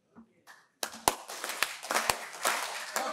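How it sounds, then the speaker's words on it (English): An audience claps three times together in unison, three sharp and evenly spaced claps, followed by a loud crowd shout, after a few quiet sounds at the start. "We have to clap 3 times, okay?"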